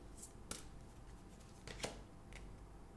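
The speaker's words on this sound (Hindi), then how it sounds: "करियर के लिए भी 3 कार्ड्स निकाल लेते हैं" Tarot cards are shuffled and drawn during a reading, with a few faint, crisp snaps and rustles of card stock spaced across a quiet room, very soft and close, with no voices.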